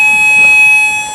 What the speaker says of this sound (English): It's the practice fire alarm, which should go up at 12 o'clock.